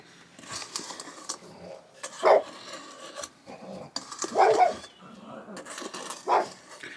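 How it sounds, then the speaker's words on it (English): A dog barks indoors in a home kitchen during baking, three loud, separate barks spaced a couple of seconds apart, with people talking quietly in between. "Do excuse the dog barking."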